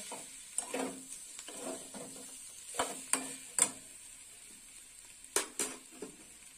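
Mustard paste being stirred into frying potato, pointed gourd and poppy-seed vegetables, a steady soft sizzle broken by repeated close scrapes and clicks of a spatula against the pan.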